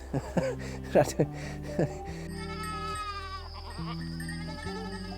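A goat on a farm in Japan bleats in short, wavering calls near the start, with a voice and a sustained musical tone running underneath.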